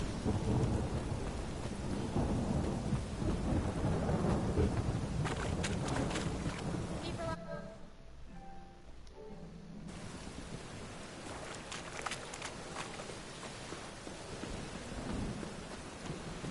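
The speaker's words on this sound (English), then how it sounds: "A storm, damn it." A video game thunderstorm with heavy rain roars steadily with rolling thunder, briefly dropping away midway before the downpour returns at full strength.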